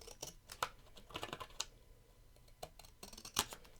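Scissors snip through card stock for a handmade thank-you card in a run of crisp, close, irregular cuts and clicks, with short pauses between the snips and no voices.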